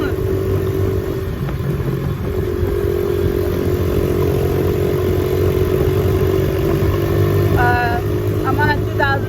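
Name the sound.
2007 Honda CRF70 dirt bike engine running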